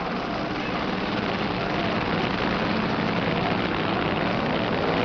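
A loud, steady engine roar with a low rumble holds throughout as drag racing cars rev together before a start at the 1972 NHRA Winternationals in Pomona.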